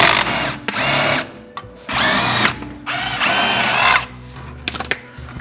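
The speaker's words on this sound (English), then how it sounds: "To remove the bolt on this side, you need a 19mm wrench and socket." Suspension bolt being removed from a Mk3 Supra control arm with a 19mm wrench and socket, heard as several loud bursts of a power tool whirring, separated by short pauses and some faint clicks.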